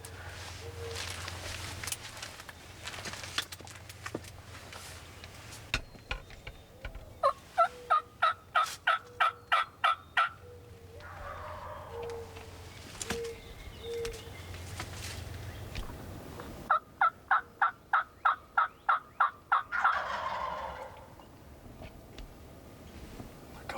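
Wild turkey gobblers in Nebraska gobble in rapid rattling bursts, two loud volleys several seconds apart, with softer distant gobbles and outdoor rustling between.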